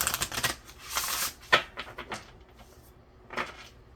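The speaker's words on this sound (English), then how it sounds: "these are so big and hard to shuffle." Large tarot cards are shuffled close by in a few short, papery bursts of rustling and slapping, separated by quiet pauses.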